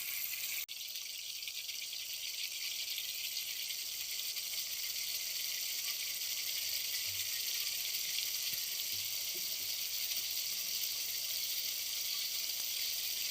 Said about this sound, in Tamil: இது மாதிரி குழம்பு நல்லா சலசலன்னு கொதிக்கும் போது கருவாடை போட்டு நல்லா நம்ம ஃப்ரை